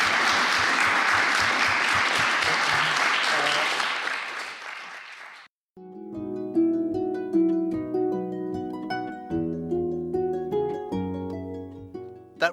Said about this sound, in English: Would you give me a little round of applause?